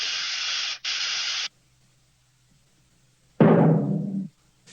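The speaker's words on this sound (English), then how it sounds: "Gee, that spray sure is powerful" Insecticide contact spray hisses out in two short bursts, then after a pause a third louder blast that tapers off, each one close and sharp with silence between.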